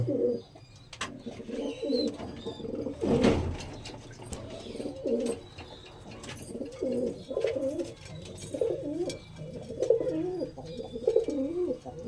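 Andhra pigeons coo in repeated soft, throaty phrases at close range, each phrase rising and falling in a steady rhythm, with a few brief chirps and clatters between them.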